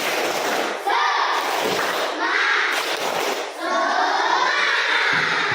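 Children in an Indonesian classroom chanting the rhythmic Tepuk Semangat clapping cheer, voices and hand claps mixed in a loud, continuous group burst with brief pauses between phrases.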